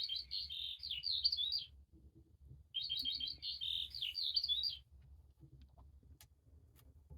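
Bright bird chirps from a noisy-farm children's sound book play in two short trilling bursts with a gap between, clear and close against a faint low background hum.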